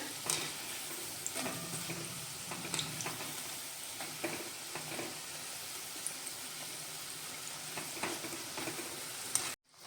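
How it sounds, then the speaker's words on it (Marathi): Soaked moong dal bhaji frying in hot oil, a steady bubbling sizzle with faint clinks and turning sounds now and then, continuous and fairly quiet, ending in a sharp knock. "आपण आता हे भजी परतून घेऊया"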